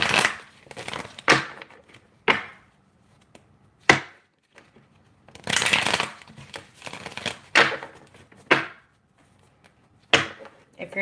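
Crisp bursts of tarot cards being shuffled and riffled, several separate rounds with short pauses between, close and fairly loud, no talking.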